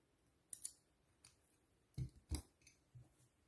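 Scissors cut yarn in a few quiet, sharp snips, with two close clicks early and a pair of louder cuts later.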